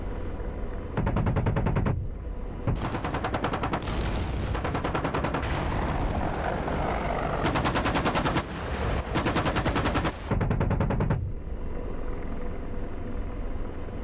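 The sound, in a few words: gunfire from a convoy ambush in the video game DCS World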